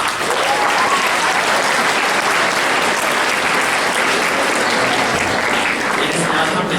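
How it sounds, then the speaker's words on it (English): Steady, loud applause from an audience after a candidate's speech at a school election event, dense clapping that holds evenly throughout with no pause. "2 big claps for that candidate speech"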